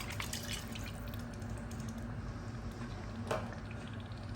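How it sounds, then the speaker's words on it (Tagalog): Water is poured onto tomato paste in a pan while making Pinoy spaghetti, a quiet trickling and dripping with a brief louder splash near the end, no talking. "Lagyan natin ng tubig"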